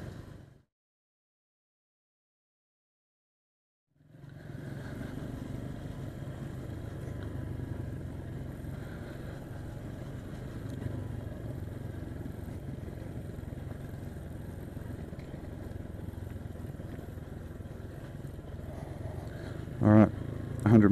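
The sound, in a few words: motorcycle riding on a trail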